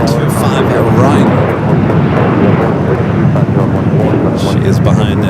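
A Boeing 747 nicknamed the Queen rolls down runway 25 right at Los Angeles International Airport, its jet engines producing a loud, continuous roaring rumble that stays strong and near throughout.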